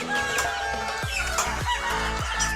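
Several chickens and hens cluck and cackle close by in short repeated bursts, with a faint rooster crow mixed into the backyard chatter in Metro Manila.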